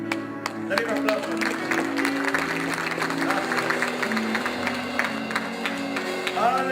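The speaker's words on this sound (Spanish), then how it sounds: "Dale un aplauso" A church congregation claps during a worship service, a steady mass of applause with sustained tones, likely music or voices, running beneath it.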